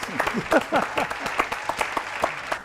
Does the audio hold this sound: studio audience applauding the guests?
yes